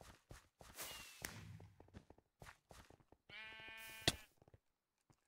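Sheep bleat repeatedly in a Minecraft Mineplex mini game, the harmonic bleats mixed with short percussive clicks and footstep-like taps, loud and close with brief silences between.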